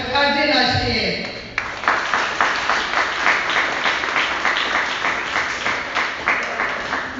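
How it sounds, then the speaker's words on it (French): An assembly at a church talk breaks into applause, a dense patter of many hands clapping steadily after a spoken announcement, loud and sustained to the end. "je vous prie l'Assemblée d'applaudir chaudement notre cher conférencier"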